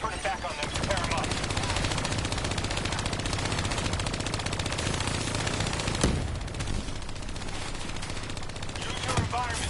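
Call of Duty 3 on PS4: a hijacked turret machine gun fires in a long continuous rattling burst lasting nearly ten seconds, loud and close, with faint game voices underneath.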